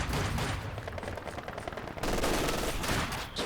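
Sustained machine gun burst in Company of Heroes 2, a World War II real-time strategy game, loud dense rapid fire continuing over a thick battlefield din for a few seconds.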